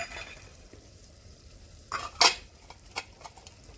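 Raw peanuts and beans dropped into a hot pan for masala rice cooked over a wood-fired clay stove, a faint low sizzle with a few sharp clattering hits from the ingredients and utensil against the pan.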